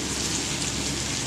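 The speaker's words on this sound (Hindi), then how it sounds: "ये तो रेन हो रहा है" Steady rain falls during the monsoon season, a dense, even hiss of drops on surfaces with no pauses, close and fairly loud.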